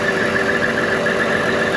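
A car engine runs at a steady idle, loud and close, a continuous mid-pitched drone with no speech over it, as the motor is checked after a costly drive-belt replacement.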